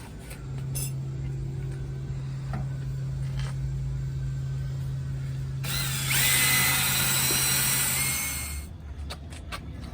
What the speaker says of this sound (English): So we're gonna pre-drill all those holes